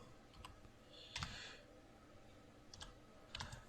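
Someone types the word "bags" on a computer keyboard in MS Project, producing a few scattered, fairly quiet key clicks and taps with pauses between them.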